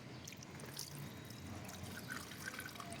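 Coolant drains from a Honda PCX150 radiator. A faint, steady trickle of liquid continues without a break, quiet and close.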